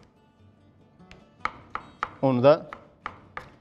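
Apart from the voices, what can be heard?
chopping tomatoes finely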